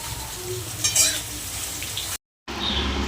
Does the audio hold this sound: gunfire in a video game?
no